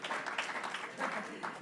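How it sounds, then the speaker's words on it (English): Scattered audience applause at a pub talk evening, light and fairly faint, a few clusters of claps rising and falling over a short stretch. "Yes, clap if you like."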